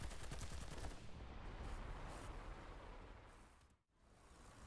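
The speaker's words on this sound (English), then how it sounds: "With the machine gun, I highlight the other enemy so that my team can see him on the map." A tank machine gun on an IS-2 in War Thunder fires in rapid bursts over dense rumbling battle noise. The fire is loudest at first, fades, drops briefly to near silence, then resumes.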